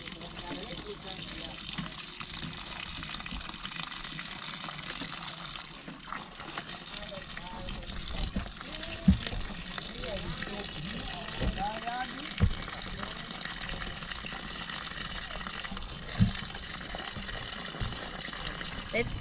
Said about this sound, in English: Let's wait for the water to fill this container.